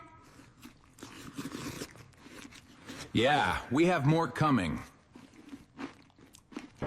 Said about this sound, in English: Chew faster, Dad.